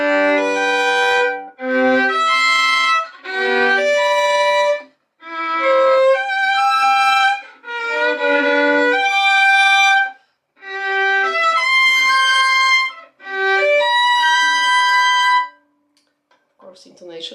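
Violin playing quadruple stops in spread voicing as scale practice, a series of rich bowed four-note chords, each held about a second or two with brief gaps between them, close and clear.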